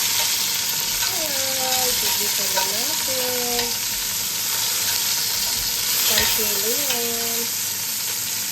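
Steady loud sizzling of onion and garlic frying in a pan, continuous throughout, with faint tonal sounds drifting in the background.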